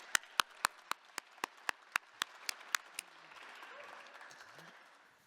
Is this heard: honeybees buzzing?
no